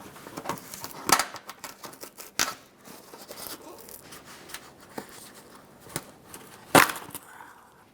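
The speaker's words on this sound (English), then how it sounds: "I'm using my trim tool." A trim tool prying push clips out of a Jeep Grand Cherokee front grille bracket area: close, scratchy plastic scraping and creaking with several sharp snaps and clicks, the loudest pop near the end.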